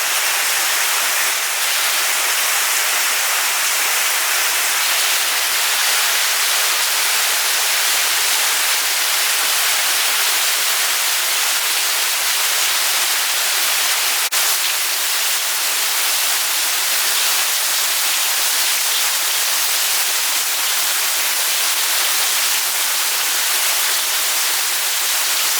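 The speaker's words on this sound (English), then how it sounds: "Getting some major rain here now." Heavy rain from Hurricane Hanna in Houston, a dense unbroken hiss of downpour that stays loud and even throughout, with no voices.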